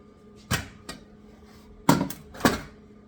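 A few clattering knocks of dishes and pans being shifted around, four distinct bumps with quiet pauses between, close by.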